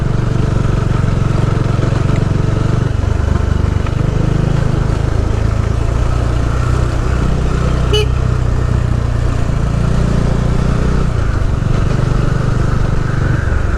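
Engine of a vehicle passing along a forest road, a steady low rumble that swells and fades twice, with a faint brief click midway.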